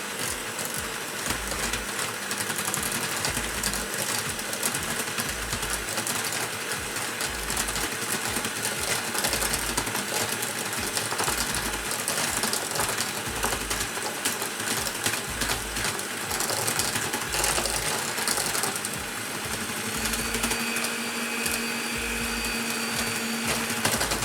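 An electric hand whisk beats a chocolate charlotte mixture until it turns pale, giving a steady, close, unbroken whirring drone with faint rattling throughout and no talk.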